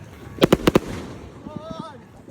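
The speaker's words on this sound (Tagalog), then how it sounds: "Fireworks pa." Fireworks at the start of the Heartbeat Run 2026 running race: four sharp bangs in quick succession, then a few softer pops, over crowd noise and talking.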